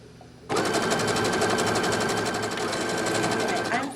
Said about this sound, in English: I'm going to zigzag stitch right along the edge here to secure that seam in place